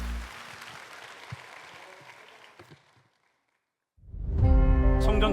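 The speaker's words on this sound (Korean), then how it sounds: "우리 다시 한번 더 큰 박수로 축복해 주시기 바랍니다." Congregation applause during a Sunday church service fades over three seconds into a short silence before loud music bursts in.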